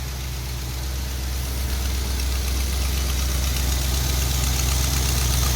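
A 1975 Chevrolet Caprice convertible engine idles steadily during a makeshift coolant flush. The low, even rumble stays close and constant, and no one talks over it.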